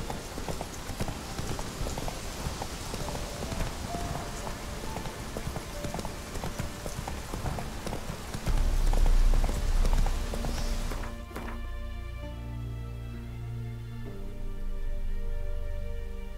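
Roach, the horse in The Witcher 3, gallops with steady, close hoofbeats that clip-clop under ambient game sound before giving way to a quieter stretch of music and ambience.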